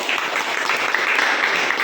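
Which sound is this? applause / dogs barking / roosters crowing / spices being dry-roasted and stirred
applause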